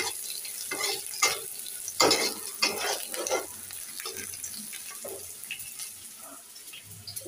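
Onion, garlic and dried chili fry in a pan, with an irregular run of scraping stirs and soft sizzling that grows busier, then thins to a quieter hiss, close by.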